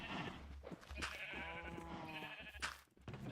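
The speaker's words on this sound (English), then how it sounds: "But at least we can breed the blue sheep together." A sheep in the Minecraft video game bleats in a wavering, nasal tone in the middle of the clip, heard quietly over a busy game soundtrack of effects and background sound, with no talk.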